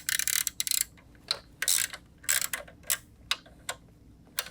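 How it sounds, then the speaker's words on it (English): An 8mm socket on a ratchet loosens tight screws on a 2010-2013 Lexus GX dashboard, giving close, rapid bursts of dry clicking in short irregular runs with brief pauses between them. "I'll pop them all loose with my 8mm socket."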